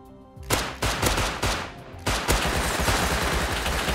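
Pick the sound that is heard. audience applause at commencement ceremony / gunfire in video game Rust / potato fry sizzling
gunfire in video game Rust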